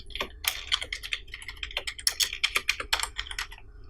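Rapid clicking keystrokes on a computer keyboard as a name is typed into an online form, an irregular run of close, crisp taps with no talking.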